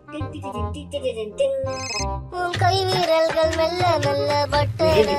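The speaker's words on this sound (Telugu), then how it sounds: "ఫోన్ చేస్తున్నాడు" A phone ringtone plays, a bright melodic tune with repeating electronic tones, loud and close throughout.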